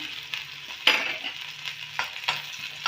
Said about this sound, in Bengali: তেলটা গরম হয়ে গেছে প্রথমে দেবো একটু রসুন কুচি দিলাম একটু কাঁচা লঙ্কা